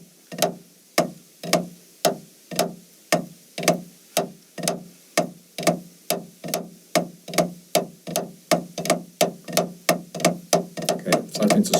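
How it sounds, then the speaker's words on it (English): Fast drum double strokes played steadily with a swung, uneven feel, about two dozen sharp hits evenly grouped over roughly twelve seconds, close and clear with no talking. "the double strokes become like swing, they become swung notes"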